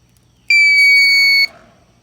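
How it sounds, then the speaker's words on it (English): A Lava Lock temperature controller for smoking brisket gives one loud, clear electronic beep lasting about a second, close by in a quiet room. "If you don't turn the alarm off on the thing, every time you push the button here, it goes beep, beep, beep,"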